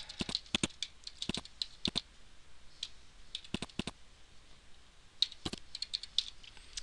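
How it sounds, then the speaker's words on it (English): Typing on a computer keyboard, quick irregular bursts of close key clicks with short pauses between words, faint and alone without speech. "I'm going to type in something like"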